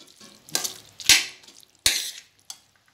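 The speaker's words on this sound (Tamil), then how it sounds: "இதை ஒரு கலக்கி கொடுத்துட்டு" Vegetable kadai being stirred in a pan, a few distinct scraping clinks of a spoon against metal spaced about a second apart, near and clear with quiet pauses between.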